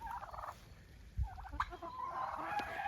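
Chickens digging for beetle larvae and worms in freshly turned garden soil, giving short repeated clucks and gobbling calls close by, with scraping and rustling between them.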